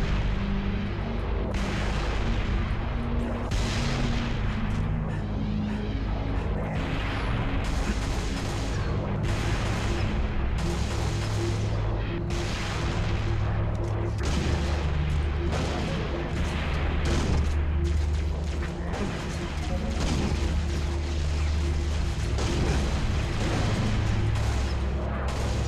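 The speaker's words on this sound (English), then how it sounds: "We got a battle rifle here. I think I might hold on to this for a little bit." Battle rifle gunfire in Halo: Reach rattles through a loud, continuous battle din, with repeated sharp bursts over steady low rumbling explosions, without pause.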